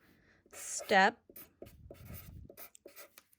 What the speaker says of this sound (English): I'm going to write my step